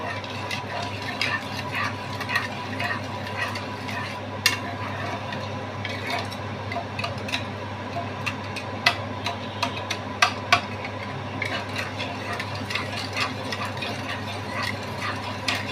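Raw mango chutney with sugar being stirred in a pot, a steady low simmering bed with scattered light scraping and ticking taps of the spoon against the pot, fairly quiet and continuous.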